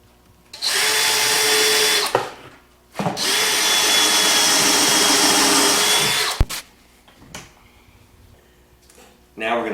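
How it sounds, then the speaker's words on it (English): Power drill countersinking screw holes in a wooden shelf made from a 2x6, two loud sustained whirring bursts of about one and a half and three and a half seconds, each followed by quieter handling clatter. "we're going to countersink 2 holes, and that's where our screw is going to go in"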